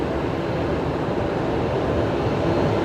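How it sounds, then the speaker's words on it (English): A propeller aircraft drones at Brisbane Airport at night, a steady low rumble that holds evenly throughout with no talk. "Oh, is that I can hear a prop as well."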